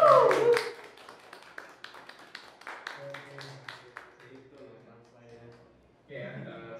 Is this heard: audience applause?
yes